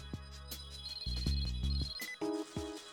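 A phone rings in Metal Gear Solid 2: Sons of Liberty: bright electronic tones chiming in short repeated bursts over in-game music and effects, with no speech.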